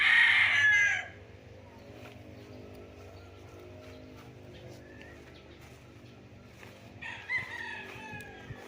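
Chickens in coops on a farm in Nagcarlan, Laguna: a rooster crows loudly and close at the start, then quieter clucks and a fainter crow follow over low background hum.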